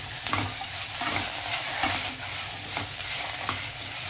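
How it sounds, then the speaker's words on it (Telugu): Vegetables with curry leaves and ginger-garlic paste fry in a pan with a dense, continuous sizzle. Soft stirring knocks recur through it, close and unbroken, with no voices. "అల్లం వెల్లుల్లి పేస్ట్ కూడా వేసేసాను. ఇవన్నీ కొంచెం అలా ఫ్రై అవనిద్దాము."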